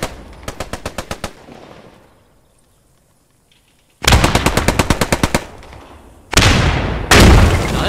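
Loud bursts of automatic gunfire in the Post Scriptum video game, with rapid rhythmic volleys, a quiet lull, then heavy blasts of Gammon bombs exploding close by amid more firing.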